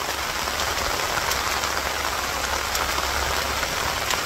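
Steady rain pours over a Bangladeshi village, a dense unbroken hiss with a low rumble beneath, loud and constant with no voices.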